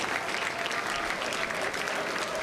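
A crowd on a front lawn at Starbase applauds steadily while watching a SpaceX Starship launch. The dense clapping holds for the whole stretch.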